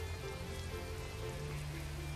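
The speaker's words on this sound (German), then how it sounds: "Es regnet, was für ein Wunder." Steady rain patters on a truck's cab and windshield while driving in Euro Truck Simulator 2, a constant dense hiss with a low engine drone underneath, with no talking.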